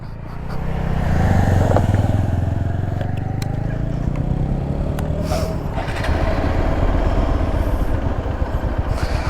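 Motorcycle engine revving and pulling through gear changes on a road ride near Dandeli, loud and close, with the pitch rising then dropping at each shift over a steady droning exhaust and wind.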